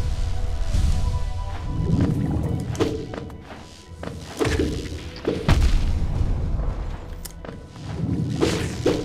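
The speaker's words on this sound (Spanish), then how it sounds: "la explosión sé que es muy grande" Booming explosions and heavy thuds from the video game Hollow Knight come in several loud hits with whooshing swells between them, dense and close.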